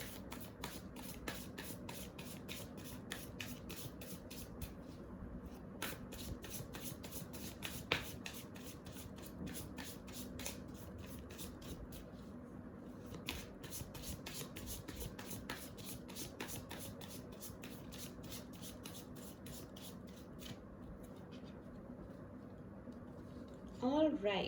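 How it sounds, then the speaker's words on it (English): Tarot cards are shuffled over and over in quick riffling bursts, close and crisp, forming a long steady flutter with brief pauses and a soft voice near the end. "I will be shuffling"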